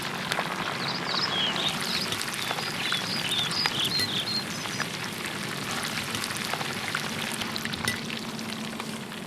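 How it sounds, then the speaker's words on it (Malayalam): Halved green chillies frying in hot oil in a pan, with curry leaves added, giving a steady dense sizzle and crackle with scattered sharp pops throughout, close and continuous, no talking. "നമ്മൾ ഫ്രൈ ചെയ്ത ഓയിലിലേക്ക് തന്നെ നടുവേ കട്ട് ചെയ്ത ഒരു 6 ഗ്രീൻ ചില്ലിയും കൂടെ നമുക്ക് ഫ്രൈ ചെയ്തെടുക്കാം"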